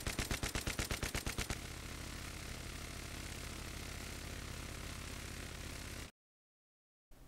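Bipod-mounted automatic gunfire in Battlefield 3 opens with a rapid, loud burst of about a dozen evenly spaced shots, followed by a dense roaring sustained rattle that cuts off abruptly into silence.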